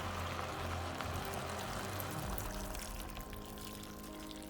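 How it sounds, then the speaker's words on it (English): Stock pours into a soup pan full of vegetables in a steady, continuous stream, fairly quiet and close. "I'm now going to add the stock."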